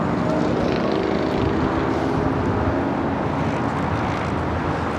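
A United Airlines Boeing 777-200 jet at LAX gives a steady, loud broadband engine rumble and roar with wind buffeting the microphone, holding level throughout.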